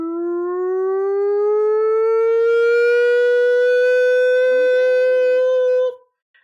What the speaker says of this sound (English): as the prison siren finally goes off, alerting everyone to your escape